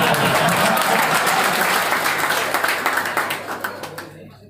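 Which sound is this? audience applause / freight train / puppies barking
audience applause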